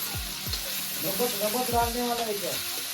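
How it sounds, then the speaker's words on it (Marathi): Cut okra sautéing in hot oil over a wood-fired clay stove gives a steady close sizzle, broken by scraping stirs and a few dull knocks of the spoon, with faint voices in the background. "आता टाकलात भेंडी कापलेली ही मस्त एक पूर्ण अशी परतून घ्यायची"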